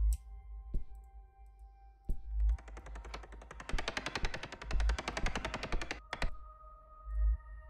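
Video game gunfire: a long, fast burst of rapid clicking shots that rattles for several seconds, framed by a few isolated single shots before and after, fairly quiet and close, with no talking.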